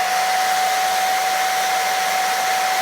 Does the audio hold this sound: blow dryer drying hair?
yes